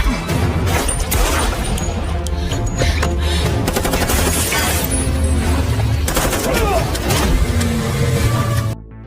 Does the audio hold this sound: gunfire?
yes